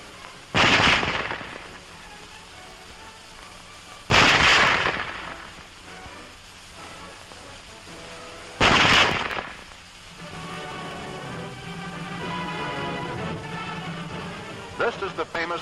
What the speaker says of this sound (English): Loading and firing the Model 98K is the same as our own Springfield, with the exception of the sight adjustment.